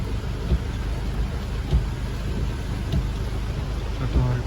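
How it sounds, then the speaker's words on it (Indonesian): Heavy, unbroken rain pours down during a stormy mountain journey near Bangli, a dense, loud hiss close to the microphone with a few faint low thumps beneath. "perjalanan di hari hujan parah"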